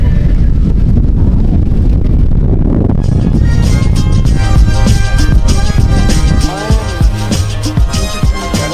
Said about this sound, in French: Mais il y a quand même du vent